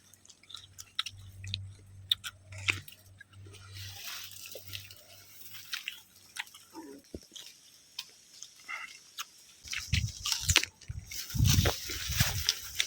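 Close, wet chewing and crunching of juicy fruit, with scattered bites and smacks, a steady low hum early on, and louder munching toward the end.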